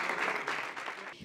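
A carnival audience at a murga performance breaks into brief, steady applause, a dense wash of clapping heard at moderate distance for just over a second.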